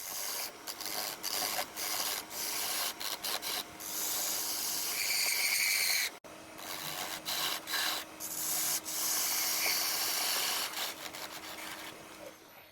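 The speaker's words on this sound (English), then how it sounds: "I establish a tenon using my parting tool" A parting tool cuts a tenon into a round wooden blank spinning on a wood lathe, giving a close, loud, raspy scraping hiss in repeated bursts with short pauses and one abrupt break midway.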